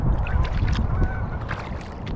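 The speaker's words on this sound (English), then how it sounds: "Seen quite a few Canada geese. They're on their way back. Some probably never left. They're honking at each other." Canada geese honk repeatedly at a distance over a steady, broad wash of wind or water noise.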